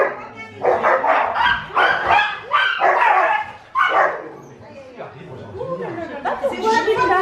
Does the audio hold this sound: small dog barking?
yes